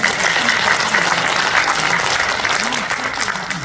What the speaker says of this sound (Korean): 이 대목에서 박수를 주시기 바랍니다